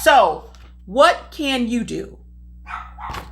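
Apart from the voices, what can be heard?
dog barking in the background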